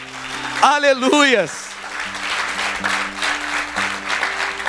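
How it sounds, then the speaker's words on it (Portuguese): A church congregation claps steadily in a broad, even wash after a brief sung or shouted cry, with a sustained musical tone running beneath. "você pode aplaudir o Senhor bem forte?"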